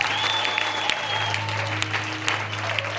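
A church congregation claps and applauds continuously at a prophecy service, a dense, steady patter of many hands with scattered sharper claps, alongside a sustained tone and a low hum.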